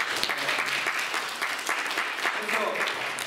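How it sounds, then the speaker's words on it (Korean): A church congregation at a New Year revival meeting applauds steadily, a dense, even roar of clapping from many people that carries on through the whole short stretch. "하나님께 박수합시다."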